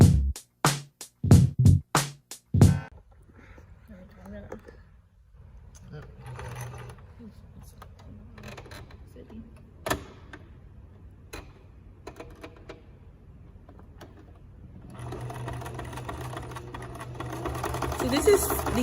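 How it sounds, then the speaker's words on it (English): A sewing machine runs a simple single straight stitch to secure appliquéd flower pieces onto a quilt. It comes in mechanical bursts, with several sharp clacks at the start and then a steadier whirring run that grows louder toward the end. "So you're gonna go to the sewing machine next, and we're gonna sew these down to secure them."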